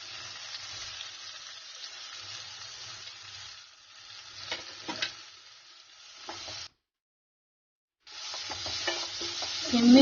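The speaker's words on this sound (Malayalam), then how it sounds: "സിമ്മിൽ വെച്ച് വേണം ഇളക്കി കൊടുക്കാൻ" Spicy masala bread upma with tomatoes and ground spices sizzling and frying in a pan while being stirred, a steady close hiss with scraping bursts, a brief pause, then louder sizzling and stirring.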